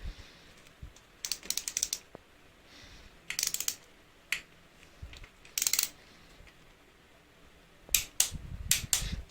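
Torque wrench clicking as bolts on a Kawasaki Eliminator 250 motorcycle are tightened to 10 Nm, several sharp close clicks in short bursts against a quiet workshop background.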